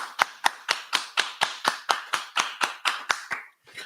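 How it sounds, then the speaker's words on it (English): Clapping at a class gathering, about fourteen sharp, evenly spaced claps in a steady rhythm, close and fairly loud, stopping near the end; it sounds like one or a few people rather than a crowd. "clap it up. Clap it up."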